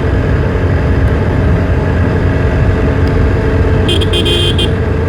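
A TVS Apache 160 4V motorcycle accelerating hard at high throttle on the road, a loud, unbroken roar of engine and wind rush close to the rider, with a few short horn toots sounding near the end.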